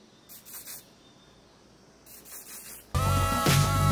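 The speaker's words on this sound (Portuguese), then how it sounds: "Com o spray fixador, você vem terminando de limpar." Hairspray fixative is sprayed onto a braided semi-updo in short hissing bursts, two soft spritzes separated by quiet, before loud music cuts in at the end.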